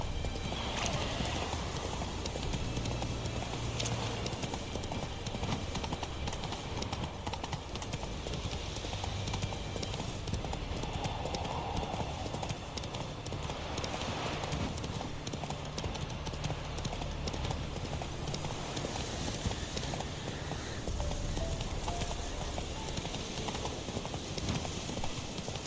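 Horse hooves clip-clop steadily in The Witcher 3 while a horse moves along. The sound is moderately quiet and continuous and sits in the game's ambient sound, with faint background voice or game audio.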